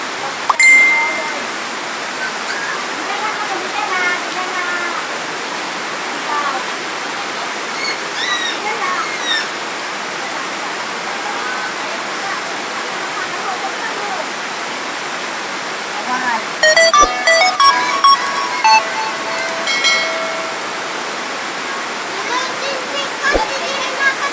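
Floodwater pours into a house during a typhoon, a steady loud rushing wash that continues throughout, with people speaking over it and a few sharp clinks toward the end.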